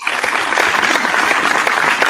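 A small indoor audience applauds steadily for about two seconds, dense close clapping with a faint murmur of voices mixed in.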